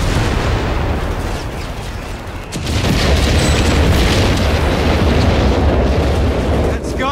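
Coastal guns get blown up in Company of Heroes 3, a big blast after a rumbling lead-in, then a loud, dense roar of explosions and debris that fills the rest of the span.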